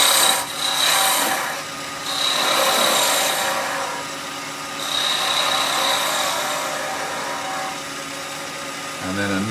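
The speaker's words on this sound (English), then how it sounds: "Let's have a play with the spindle gouge next." A spindle gouge cuts and shapes wood spinning on a lathe, giving a steady rasping scrape that swells and eases in long passes, close and fairly loud, with faint talk underneath.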